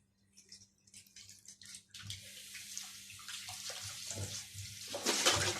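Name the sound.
washing at the kitchen sink with running tap water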